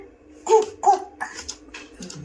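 A voice imitates a dog barking, giving a few short woof-like calls with rising pitch during a family alphabet and animal-sounds game at home, close and fairly quiet with background room noise.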